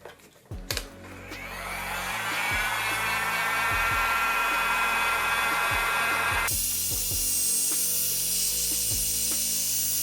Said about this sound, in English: I will use a heat gun and around 170 to 190 degrees for maybe a minute or two.